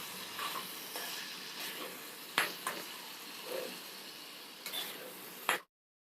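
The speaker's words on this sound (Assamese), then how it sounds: "এয়া আকৌ ভালদৰে লৰাই মই অলপ সময়ৰ বাবে ঢাকি দিম।" Chicken curry stirred in a pan makes a quiet, low sizzle with occasional scrapes and a couple of sharp utensil knocks against the pan before it cuts off.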